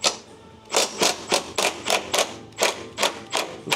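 Quick rapid clicks from a ratchet wrench loosening 14 mm strut bolts on an Acura NSX come in short repeated bursts, close and fairly loud, with brief pauses between runs.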